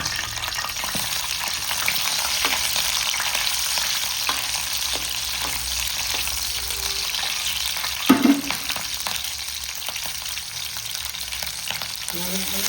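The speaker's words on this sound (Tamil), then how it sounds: "பட்டையை போட்டு பொரிச்சு பச்சை மிளகாய் போட்டு தாளிச்சுக்கணும்." Cinnamon and green chillies frying in hot peanut oil, a continuous close crackling sizzle with occasional spatter pops and a brief clatter partway through, no voices.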